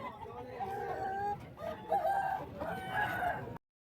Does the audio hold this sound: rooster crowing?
yes